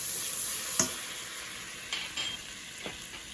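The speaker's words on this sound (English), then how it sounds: "Okay, the butter is melted. Now I add 1 teaspoon of cumin powder" Cumin powder sizzles softly in melted butter for butter chicken, a faint steady fry with a few light clicks and stirring taps from a utensil.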